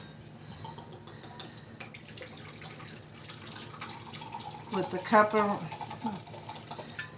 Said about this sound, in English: I like to pour a cup of rum.